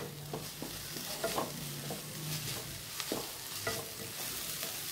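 Green chillies tossed and stirred into pepper chicken masala in a hot pan, giving a steady close sizzle with scraping spoon strokes throughout, no voices.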